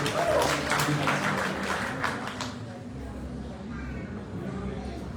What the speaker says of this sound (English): So can we have a big round of applause for ma'am here?